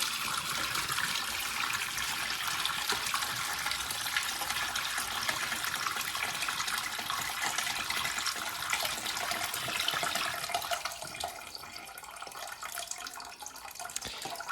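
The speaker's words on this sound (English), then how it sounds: "And again, clogging towards the end of the flush." A prototype toilet flushes a full tank loaded with wet pom-poms, a steady rushing gush of water that drops off and thins near the end as the bowl clogs; no voices.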